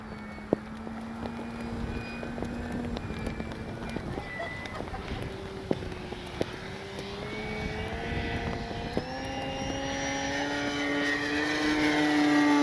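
A Flex RV-8 60E G2 electric RC model airplane flies past, its propeller whine rising and falling in pitch and growing louder toward the end, with brief clicks and light wind noise.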